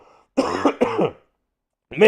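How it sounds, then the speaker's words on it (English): Someone coughs twice in quick succession, close and loud, the sound rough and throaty like clearing the throat, followed by silence and another cough starting. "I have a cough brewing in my throat, and boy, I was struggling to hold it back."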